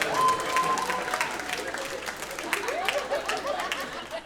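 Moderate audience applause at a French-language stand-up comedy show, scattered clapping mixed with crowd chatter and a few chuckles, fairly quiet and tapering toward the end.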